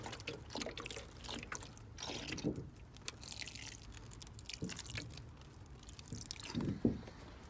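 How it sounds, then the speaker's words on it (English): Faint, gentle trickling and dripping of water from a homemade milk-bottle watering can with small punched holes, sprinkled over onion seedlings, with soft irregular splashes. "to give all these onion seedlings a little drink"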